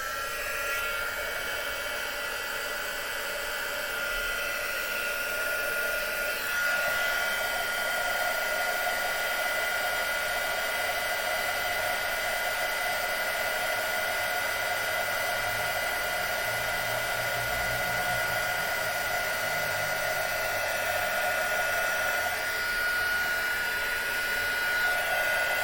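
Heat gun blowing hot air for craft embossing, a steady close whine and rushing hiss that runs unbroken for the full stretch with a slight shift in tone partway through.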